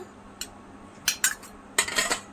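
Fish is served onto a plate with metal utensils: a few sharp, close clinks and scrapes of cutlery against a dish, coming in small clusters against a quiet background.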